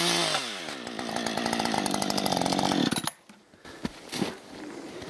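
A chainsaw runs loud and close at full throttle while cutting wood, its engine winding down sharply near the three-second mark and leaving quieter scattered knocks and rustles afterward.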